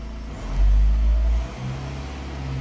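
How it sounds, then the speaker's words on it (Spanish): A Volkswagen Amarok engine revs up sharply to about 2000 rpm, holds there for roughly a second, then drops back to a steady idle hum close by. "Ahí sube a 2000 revoluciones."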